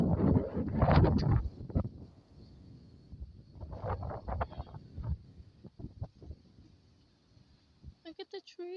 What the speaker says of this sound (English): So far, it's just windy.